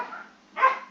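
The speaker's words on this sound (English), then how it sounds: "Excuse the dogs barking in the background." Dogs bark twice in the background, a short yap followed by a louder bark after a brief pause, moderately distant with no talk.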